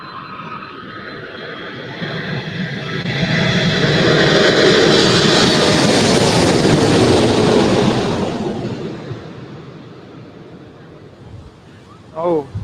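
A Lufthansa Boeing 747-8 in retro livery arriving from Frankfurt: a broad jet roar swells, peaks mid-clip and fades, mixed with strong wind buffeting the microphone, with a brief voice at the end.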